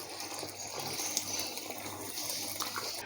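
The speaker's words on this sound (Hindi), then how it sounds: "और यहाँ हम डाल देंगे पानी।" Warm water gushes steadily into dal in a cooking pot, a continuous pouring wash at moderate level with no talk.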